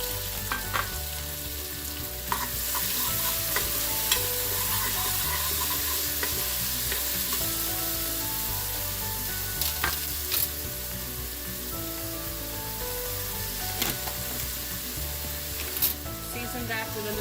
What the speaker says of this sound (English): that helps the onions sweat. Helps it fry faster